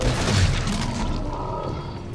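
An explosion goes off in the game Resident Evil 7, Not A Hero DLC, a deep booming burst at the start that rolls into a rumbling, clattering tail.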